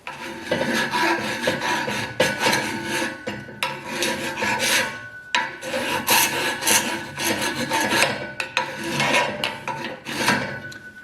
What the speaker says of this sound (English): With a file,